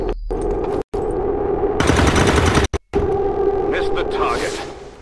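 Overwatch gunfire in XCOM 2 arrives as a dense, loud rattle of shots over a steady game hum. Brief cuts break the sound, and a voice talks through part of it.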